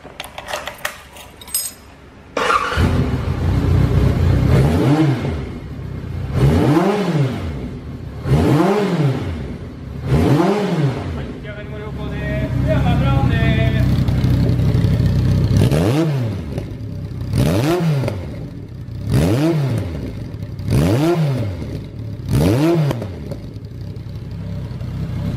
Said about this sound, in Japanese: ではエンジンの方を始動していきます。